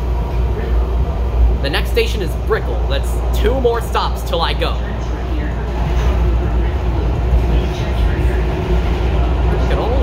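Inside a Miami Metrorail car while riding, a steady low rolling rumble fills the space as a nearby voice talks over it, with a few brief higher clinks and squeaks mixed in.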